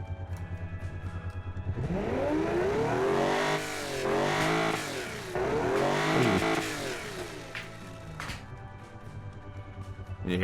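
A classic Italian sports car engine in Automation/BeamNG.Drive, running too rich, revs hard in three rising, sweeping bursts, loud and aggressive, then settles back to a rough idle.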